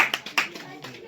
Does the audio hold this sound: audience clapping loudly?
yes